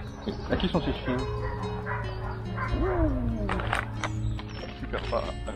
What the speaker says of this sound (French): À qui sont ces chiens?